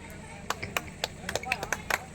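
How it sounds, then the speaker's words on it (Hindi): Applause from the crowd at a wedding anniversary celebration, a short burst of scattered, uneven hand claps heard close up over a low murmur of voices. "एक बार ताली"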